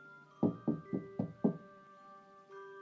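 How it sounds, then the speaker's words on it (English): A knock on a door on a snowy night: five distinct, close thuds in a quick, steady sequence, set over a faint sustained tone, then quiet. "there was a knock on my door."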